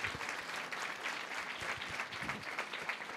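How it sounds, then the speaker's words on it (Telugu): A church congregation at a Christmas service claps together, a soft, distant-sounding wash of steady applause with no talk over it. "గట్టిగా చప్పట్లు కూడా యేసయ్యకి స్తోత్రం చెల్లిద్దాం."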